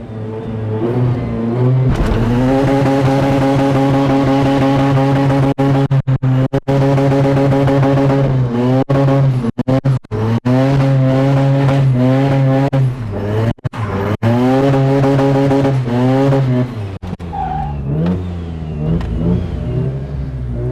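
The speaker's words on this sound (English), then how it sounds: "I'm just going to do some burnouts." A Mazda FD RX7 rotary sports car does burnouts, its engine loud and close, revving hard in long sustained pulls with rising and falling pitch while the tires squeal, a few brief gaps in between.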